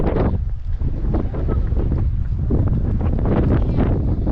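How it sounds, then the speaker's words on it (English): Wind on a mountain hike in the Pyrenees along the Carros de Foc route, steady loud gusting and buffeting across the microphone for the whole stretch, with no clear talk. "It's nice and breezy and cool."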